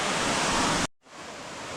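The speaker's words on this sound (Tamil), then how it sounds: "எப்படி இருக்குது பார்த்தீங்களா, வேறு லெவலில் இருக்குங்க இந்த ஃபால்ஸு" Hidden waterfall in Tiruvannamalai rushing as a loud, dense wash of water noise that cuts out abruptly midway, then returns somewhat softer.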